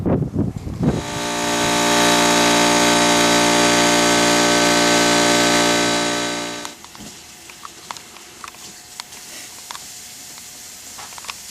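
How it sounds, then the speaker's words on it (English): A lawn aerator engine runs loud and steady for several seconds, holding an even droning hum before shutting off abruptly, leaving only quiet outdoor ambience with a few small knocks. "it's ideal conditions for aerating, so I'm real happy we're able to get this out and get this done"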